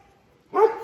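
A single dog bark rings out close by after a short quiet stretch, one sharp burst with no one speaking over it.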